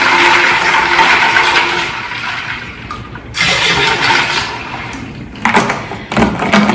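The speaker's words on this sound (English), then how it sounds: "And then I'm going to add a half a bottle of the limeade" Limeade glugs out of a bottle into a bowl of punch in a steady, splashy pour that pauses briefly and resumes, loud and close.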